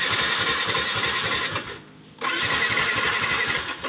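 A motorcycle fitted with an anti-theft security device is cranked on the starter in a loud, rapid whirring churn that breaks off briefly, then resumes just as hard without the engine catching.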